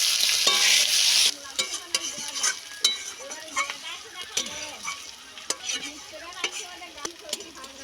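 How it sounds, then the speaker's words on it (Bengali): Chopped onion sizzles in hot oil while being stirred for a meat curry, opening with a loud burst of frying hiss that settles into steady crackle with repeated spatula scrapes and clicks against the pan. "পেঁয়াজটা ভালো করে ভাজতে হবে।"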